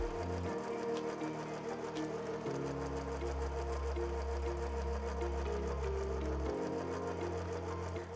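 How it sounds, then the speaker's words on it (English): A 2300SZ direct drive zig zag sewing machine stitches a coiled rope basket, its steady mechanical hum and rapid needle chatter running continuously, with pitch shifts as the motor speed changes. "To set the width of the basket, we need to turn the basket at approximately a 30-degree angle and sew."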